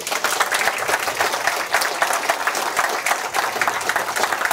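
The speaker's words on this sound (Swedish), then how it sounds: "Det tycker jag förtjänar en applåd." Studio audience applauding on a Swedish talk show, a dense steady wash of many hands clapping at close range, loud and continuous throughout with no voices over it.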